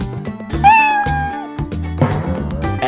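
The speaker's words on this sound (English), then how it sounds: "K for kitten." A kitten meows clearly and close up, a drawn-out rising-falling cry over a bouncy children's alphabet song with music playing underneath.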